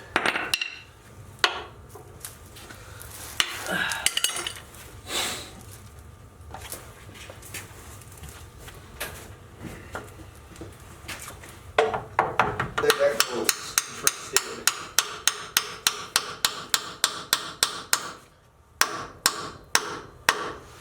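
Hammer tapping suspension shackle bushings into a Jeep frame during a TeraFlex HD shackle replacement, heard as a run of sharp metallic taps that quickens into a steady close rhythm of many strikes.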